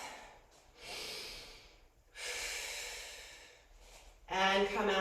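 Slow, deep breaths drawn in and let out during a plank exercise, each long airy inhale and exhale close to the microphone, followed by a sharper, louder breath at the end.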